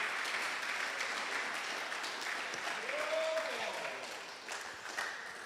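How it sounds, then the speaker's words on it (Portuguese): Church congregation applauding during a sermon, a room full of steady clapping with a brief voice calling out partway through. "Você pode aplaudir ao Senhor por isso?"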